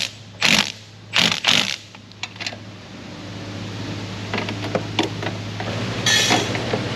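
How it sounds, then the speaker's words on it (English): A wrench on a wobble extension tightens the brake master cylinder bolts on a 2002-2006 Chevy Tahoe or Suburban with a 5.3 LS engine. A few short, close metallic clicks and rattles sound over a low steady hum. "We can go ahead and tighten down these bolts for the master cylinder."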